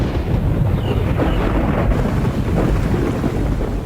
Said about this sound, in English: A bracing wind heralds the approaching storms.